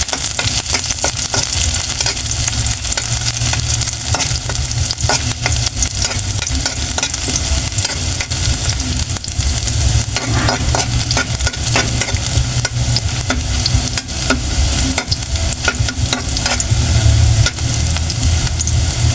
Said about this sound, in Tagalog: Mainit na yung mantika. Lagyan na natin itong ating sibuyas at bawang.